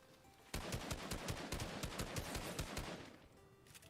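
Rapid SMG fire in Fortnite rattles off in a steady burst of sharp, evenly spaced shots for about two and a half seconds, fairly faint, then trails off.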